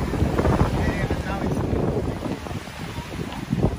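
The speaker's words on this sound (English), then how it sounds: "It's too windy." Strong wind buffets the microphone beside Ammersee lake at Herrsching in Germany, a steady, loud roar of gusts that fills the whole clip, with a faint murmur of voices beneath it.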